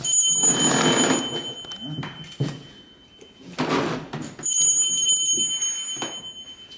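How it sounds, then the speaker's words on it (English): A loud, sustained electric bell rings in long bursts with brief pauses between them, with mechanical clatter from a traditional printing press and a voice underneath. "Maybe in the morning I should shut this bell because it's very loud."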